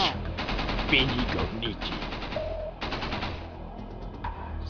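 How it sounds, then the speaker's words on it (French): Gunfire in the video game Max Payne 2, bursts of rapid shots crackling over a dense game soundtrack, with a voice speaking in between. "Alors j'entendis Vlad tirer des coups de feu."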